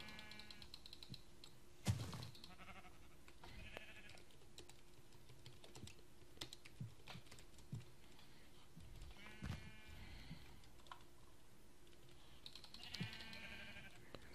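Sheep in Minecraft bleat in short, faint bursts that recur at intervals over a steady low background, mixed with keyboard typing clicks.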